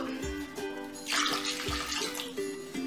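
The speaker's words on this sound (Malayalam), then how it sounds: "ഇതിപ്പോ ഞാൻ 1/2 കപ്പ് വെള്ളം കൂടി ഒഴിച്ചിട്ടുണ്ട്" Half a cup of water pours and splashes into a metal pressure cooker for a couple of seconds, close by, with a few soft clunks.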